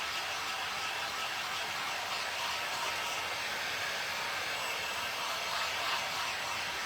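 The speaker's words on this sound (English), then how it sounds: "Let's dry it all, then we'll break out the dark wax" A hair dryer runs steadily and continuously at close range, drying paint on a thrifted picture frame. It gives a constant broadband whoosh with no pauses and no speech.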